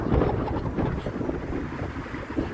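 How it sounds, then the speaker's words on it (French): Strong wind gusting outdoors, a loud, steady roaring rush buffeting the microphone, dense and unbroken from start to finish with no voices. "Il y a beaucoup de vent."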